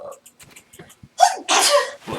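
A person sneezes during a gaming livestream: quiet breathy sounds build up, then two loud, close sneeze bursts follow in quick succession, with a further short burst at the end.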